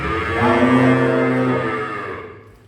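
Cattle mooing: a long, low, drawn-out bellow with rich harmonics that swells and slowly fades, with no voices.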